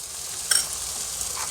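Chopped tomatoes hit browned onions in a hot pan, bringing a steady, close hiss of frying with a brief louder sizzle burst and light stirring.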